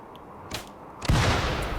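Creatures blowing up under gunfire in the video game Rimworld, a short muffled pop, then a louder booming burst that rolls on with crackling rumble, with no talking.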